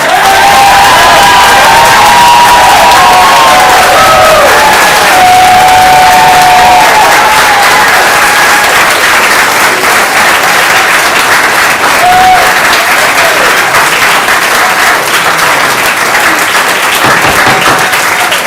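A council meeting audience bursts into sustained, loud applause for a speaker, with scattered cheers and whoops rising over the clapping throughout.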